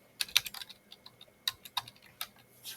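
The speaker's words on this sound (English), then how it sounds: "I'm just typing something in." Someone types on a computer keyboard while running Windows test software, a nearby sequence of about a dozen irregular, crisp key clicks with quiet gaps between them.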